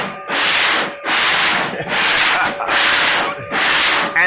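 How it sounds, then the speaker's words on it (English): Steady, loud abrasive sanding of a foam boat hull in long sweeping passes, with brief pauses between strokes and a faint machine hum underneath. "it is only foam that we're sanding"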